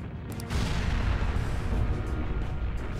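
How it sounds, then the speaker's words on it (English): A sudden explosion in Persona 5 Royal bursts in loudly after a brief quiet moment, then rolls on as a dense, sustained rumbling roar with no voices. "An explosion?"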